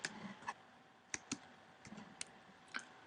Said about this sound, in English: We'll start typing Dilton County Public Library, and then we'll type the address.